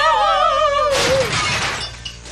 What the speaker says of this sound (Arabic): تحطم كل شيء